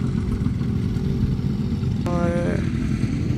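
Small motorbikes ridden by children on the red sand dunes near Riyadh, a steady low engine drone running throughout with a brief higher revving tone partway through, fairly close and continuous.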